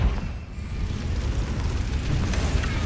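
In Hogwarts Legacy, a Confringo spell is cast inside a cave and sets off a low rumbling blast, a dull, sustained boom with rough noise rolling under the echoing space.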